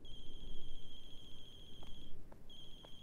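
Phone ringing in the horror game The Closing Shift, a loud, shrill electronic ringtone tone held steadily, pausing briefly before resuming, over low background noise.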